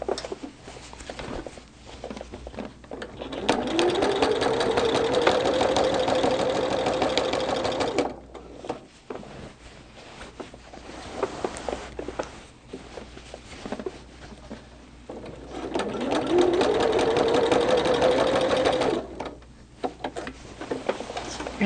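A sewing machine quilts a Christmas tree quilt, running in two long steady buzzing bursts of rapid stitching separated by pauses filled with fabric shuffling and handling, close up.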